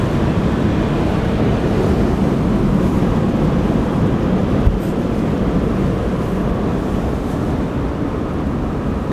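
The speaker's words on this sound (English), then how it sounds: "it's super windy up here" Loud, constant winter wind roar buffeting the microphone on a road trip stop, a dense rushing noise that never lets up.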